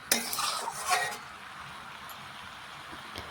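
Bottle gourd being mixed with fish oil in a pan, a spoon clinking and scraping in a short burst at the start before fading to a quiet, steady low sizzle.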